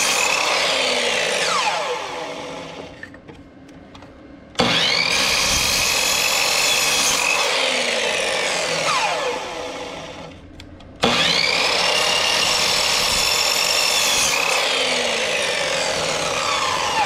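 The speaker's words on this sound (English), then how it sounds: "I'm going to cut this up on the miter saw and place a couple of them in there" Miter saw cutting pieces of wood for a brace on an overland vehicle awning: two long, loud whining cuts, each starting abruptly, with the blade winding down between them, close and with no voices.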